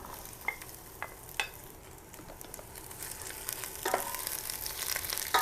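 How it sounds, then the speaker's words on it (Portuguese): Onion sautés in hot oil over medium heat in a home kitchen pan, a soft steady sizzle with a few sharp clicks of a utensil stirring, growing slightly louder toward the end. "Refogamos a cebola em fogo médio, mexendo de vez em quando"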